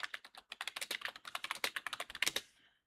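Quick, steady typing on a computer keyboard with crisp, close key clicks in an even rhythm, ending in a short pause.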